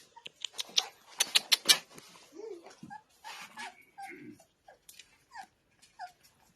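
A Labrador puppy whimpers and whines in a string of short, high, wavering cries, close and fairly quiet, with a few sharp clicks and rustles at the start.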